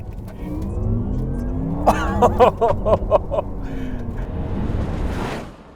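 A Porsche Taycan electric car surges forward on a 90-horsepower push-to-pass boost, a rising electric whine and road roar with a few sharp bursts midway, then fading to silence.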